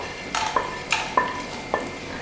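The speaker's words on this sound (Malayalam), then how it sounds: "ഇനി നമുക്ക് ഇതിനകത്തോട്ട് ഫ്രൈ ചെയ്ത് വെച്ചിരിക്കുന്ന ചെമ്മീൻ ചേർത്ത് കൊടുക്കാം." Dried prawns, already fried, being stirred into a browned spice masala in a pan; a few distinct scraping strokes with faint background sizzle, close and moderately quiet, no voices.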